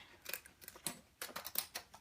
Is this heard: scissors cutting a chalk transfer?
yes